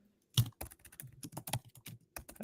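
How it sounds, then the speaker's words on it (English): Rapid typing on a computer keyboard, close and fairly loud, with irregular clusters of sharp key clicks and short pauses between bursts. "I hear a lot of typing."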